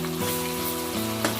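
Fried onion paste cooks in a pan for a fish curry, giving a dense, steady close sizzle with a low hum underneath and a couple of brief stirring knocks.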